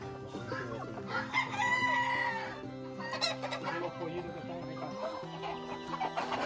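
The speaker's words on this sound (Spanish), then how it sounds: "Que gallo padrón que Carlos pagó, no sé." Roosters crowing at a rooster farm in Puerto Rico, several overlapping cock-a-doodle-doo calls close by, with clucking fowl and a busy, layered background throughout.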